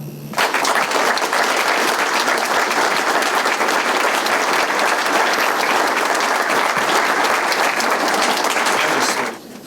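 A hall of fame ceremony audience breaks into loud, sustained applause for the evening's inductees, dense clapping that rises sharply, holds evenly for about nine seconds, then stops abruptly.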